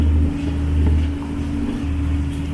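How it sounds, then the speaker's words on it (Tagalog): Strong wind buffets the microphone over a low boat engine drone and rushing rough sea water, a continuous roar with gusty swells. "malakas ang hangin na guys"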